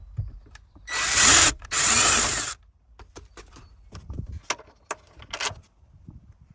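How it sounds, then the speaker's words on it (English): A power tool whirs in two strong bursts on 10mm bolts under the hazard light of a 2005-2013 Toyota Tacoma dash, followed by scattered light clicks and rattles of the socket and parts. "I'm going to use a 10mm socket to take it out."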